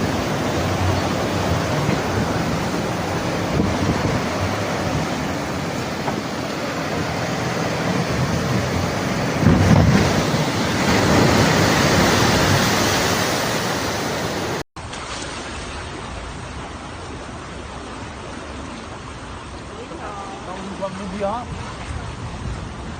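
Huge typhoon waves pound the Catanduanes coast in the Philippines during Super Typhoon Pepito, a dense continuous roar of surf that swells around the middle and then carries on as a steadier, slightly duller wash.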